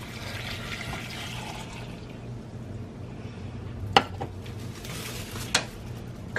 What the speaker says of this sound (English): And we're gonna pour the liquid over.